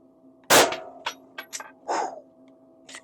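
A suppressed firearm fires one sharp, loud report indoors in a room fitted with soundproofing panels, followed by metallic clinks and rattles fading out, with no talk.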